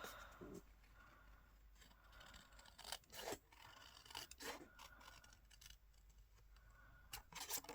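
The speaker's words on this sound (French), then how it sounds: "j'ai plus qu'à venir découper le cœur" Scissors cutting a heart shape out of a paper sheet for scrapbooking, quiet close snips and rasping paper scrapes in irregular bursts, with no talking.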